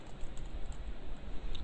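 Quiet, steady typing on a computer keyboard during a basic C programming lesson. Soft, even key taps with no voice.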